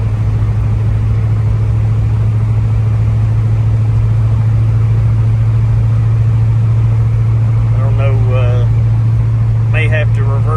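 Car fitted with CalTracks traction bars cruising on a road, a loud constant low engine drone heard from inside, with brief voices near the end.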